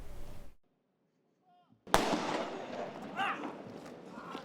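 A sudden explosion bursts out during an anti-terror training drill at a large supermarket in Pocheon, breaking a short silence with a sharp loud blast followed by sustained rumbling noise and commotion.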